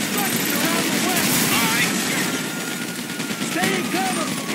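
Rapid gunfire bursts crackle through a dense, continuous game soundscape during a GTA 5 Paleto Bay heist shootout with police, loud and steady throughout with voices and other action sounds layered underneath.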